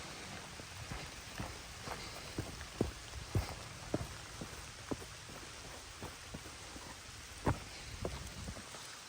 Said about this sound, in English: Gotta love the sound of rain.